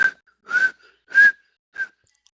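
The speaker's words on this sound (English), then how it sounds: "What's wrong with whistling?" A person whistles four short tonal notes with brief gaps between them, the third held longest and loudest, close and clear with no talk around it.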